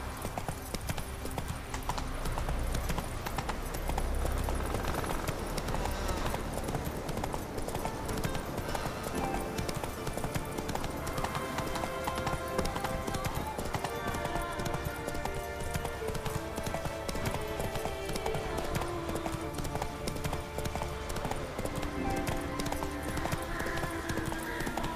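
Horse hooves clip-clop steadily during riding in the video game The Witcher 3, a continuous rhythmic trot mixed with game music and ambience, with occasional voices.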